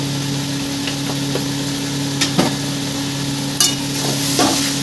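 Hilsa fish head and taro leaves being stirred in a salted pan, a soft sizzle under a steady electrical hum, with a few sharp utensil scrapes and knocks, no voices.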